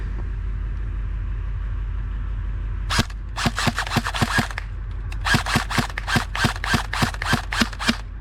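An airsoft AEG rifle, an ASL Plus, fires downrange outdoors in short bursts and then a longer run of rapid, sharp cracking shots, loud and close, after a few seconds of quiet background rumble.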